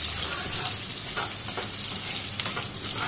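Dried chili and chopped garlic frying in oil make a steady, close sizzle with light stirring crackles throughout, no talking.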